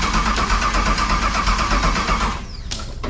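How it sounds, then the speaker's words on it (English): A custom-built car engine cranks and runs on the starter button, a loud steady mechanical roar for over two seconds that cuts off abruptly, followed by a brief sharp burst near the end. "hit the starter button again."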